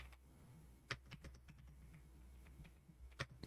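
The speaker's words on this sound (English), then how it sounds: "Let me type it in real quick" Quick bursts of keystrokes on a computer keyboard, faint and close, with irregular clicks and a few sharper taps over a low background hum.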